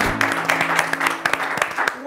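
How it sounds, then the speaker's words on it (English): Applause for a young spelling champion in a children's studio show, a short burst of sharp clapping from a small group, close and lively, with voices and a sustained tone running underneath. "A round of applause!"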